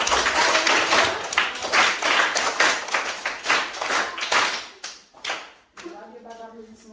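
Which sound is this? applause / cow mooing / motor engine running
applause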